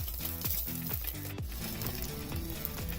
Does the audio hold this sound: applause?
no